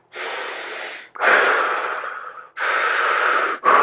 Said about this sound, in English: You can be a mouth breather if you want to. Just breathe.